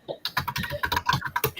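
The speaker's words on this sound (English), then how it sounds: "Currently looking at stuff while typing this on a different monitor." Fast, continuous typing on a computer keyboard during a live productivity stream, with close, crisp key clicks in quick uneven runs and no voices.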